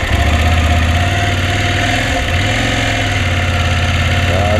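Vehicle engine running steadily after the throttle is closed and the gearbox shifted down to sixth, a loud, continuous low drone with a slight pitch dip partway through.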